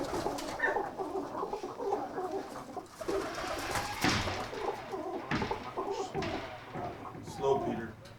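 Game chickens, roosters and hens in a pen, clucking and cooing nearby in a steady chorus, with a person talking over them.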